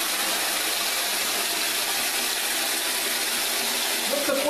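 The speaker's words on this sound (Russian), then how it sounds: "Надо заменить фильтр, но перед этим хочу пропустить воду" A household kitchen tap runs at full force with its water filter removed, letting dirty, oil-tainted water flush through. It makes a loud, steady, hissing gush that lasts the whole time.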